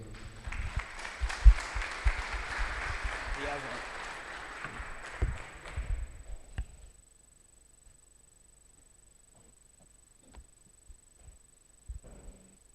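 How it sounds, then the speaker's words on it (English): An audience at a talk applauds for about six seconds in a dense patter of clapping, then the room falls quiet except for a few scattered thumps and shuffles. "Guys, please give a round of applause for John Eves."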